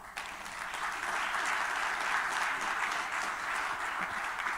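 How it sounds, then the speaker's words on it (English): Sustained applause from an audience at a post-budget business forum fills the whole stretch, an even, dense wash of clapping heard from within the room. "Let's applaud Mr. Koto one more time."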